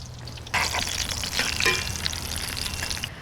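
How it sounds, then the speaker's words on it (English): Panko-breaded eggplant fries in butter over an open fire, a dense, steady sizzle and bubbling that starts abruptly and holds loud and close for about two and a half seconds before easing off. "I'm hearing it bubble."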